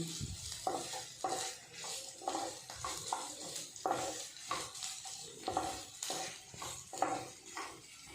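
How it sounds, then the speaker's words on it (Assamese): Grated coconut frying in a pan over a gas flame, stirred with steady, rhythmic scraping strokes over a soft sizzle, close and fairly quiet, with no speech. "অকণমান ধুনীয়া সুগন্ধ অহালে নাৰিকলটো ফ্ৰাই কৰি থাকিব।"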